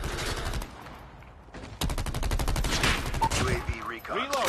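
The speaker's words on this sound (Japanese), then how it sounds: "後ろから撃たれてるわ。" Rapid automatic gunfire from a Call of Duty Mobile match rattles in dense bursts, loud and close, with a short lull before another sustained volley and sweeping electronic effects near the end.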